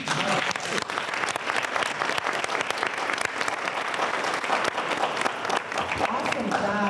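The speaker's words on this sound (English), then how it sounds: "Let's give Brandon another big round of applause." Audience applause fills the room after a contestant's speech at an annual speaking competition, steady and sustained clapping from a sizeable crowd, loud and continuous throughout.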